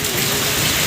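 Rain pours outside in Odisha as a dense, even hiss of drops hitting surfaces, steady and fairly loud throughout the short moment.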